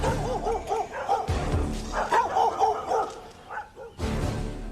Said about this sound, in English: Our specially equipped surveillance unit was repelled by vicious guard dogs trained to attack on sight